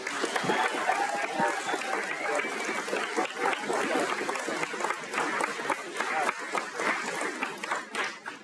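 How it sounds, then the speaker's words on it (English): Audience applause at a spring university commencement ceremony honoring graduates' families, a dense steady clapping from a large crowd lasting throughout, with faint murmurs mixed in. "A round of applause to all the families of the graduates who have played an essential part in getting them to this point."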